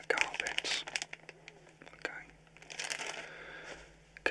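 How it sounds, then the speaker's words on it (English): Plastic bags crinkle and rustle as they are pulled over shoes, close and crisp in irregular bursts, with soft whispered speech between the crinkles. "So I've actually got these as plastic bags, and what we'll do is we'll put these over our shoes"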